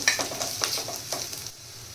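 Peas pulao ingredients frying lightly in oil in a pan, a soft steady sizzle with several stirring scrapes through the first half before it settles to a quieter hiss.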